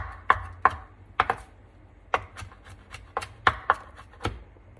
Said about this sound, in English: Finish chopping it.